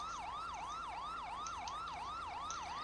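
Ambulance siren in GTA V, a loud wailing yelp rising and falling in rapid regular cycles, close and continuous throughout with no talking.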